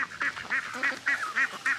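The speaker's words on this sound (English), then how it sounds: "look at them sweet ducky ducks" Several ducks quacking close by in a yard, about seven short bright calls in an uneven rhythm, heard alone with no talking.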